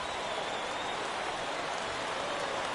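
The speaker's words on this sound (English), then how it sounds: "the rain starting to intensify here. It's coming down a little heavier now." Steady rain pours down in the baseball video game MLB The Show 18, a dense, even hiss that holds at a constant level throughout with no voices over it.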